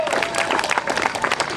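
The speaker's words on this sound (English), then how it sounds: "I'd like a great big round of applause for Ryan for setting this up" Brief, energetic applause from an outdoor crowd at a freedom rally, close and continuous, mixed with scattered voices.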